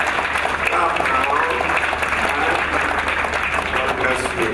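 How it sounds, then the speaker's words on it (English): Sustained, dense clapping from a church congregation during a service at RCCG Canaanland, steady and loud throughout. "Canaanland, clap now. Clap now."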